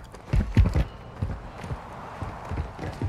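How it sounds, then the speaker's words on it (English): In-game footsteps in the shooter Warzone 2 thud in a quick irregular rhythm, fairly close and moderately loud over a low background, with a few soft voices faintly present. "I hear your footsteps."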